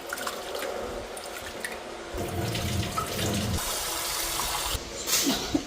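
Rice is washed in a sink under a running tap, with steady splashing water close by that swells and shifts as the grains are swirled, ending in a few clinks and sloshes. No one speaks.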